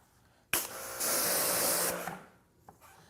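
A hissing burst of Easy Detail detailing spray misted onto a car wheel, one sustained spray of about a second and a half starting sharply, then a faint click afterward.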